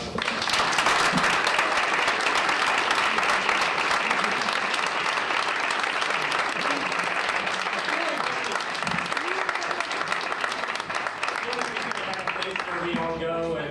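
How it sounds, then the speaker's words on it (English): A forum audience applauds in a sustained, fairly dense round of clapping at moderate loudness, with faint voices emerging toward the end as it fades. "let's give a round of applause"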